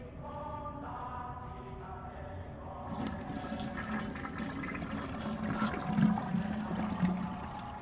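In the Death Mark video game, water rushes swiftly down pipes as a steady gushing flow, like a flushing surge, over a low droning tone, growing fuller midway and running continuously to the end.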